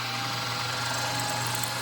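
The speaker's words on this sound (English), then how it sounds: "Drilling the hole in the back, the little center drill first, and then a 240 thousandths drill bit." Drill bit boring a hole in the back of a steel Bowie knife, a continuous steady whirring grind holding level for the whole stretch, close and fairly loud with no talk.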